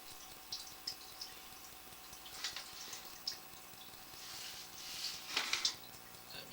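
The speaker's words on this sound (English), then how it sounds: "Here's the water coming in from the sink." Water from a kitchen sink trickles and splashes through a sewer pipe, a faint, steady flow with scattered louder drips and gurgles, heard from inside the pipe.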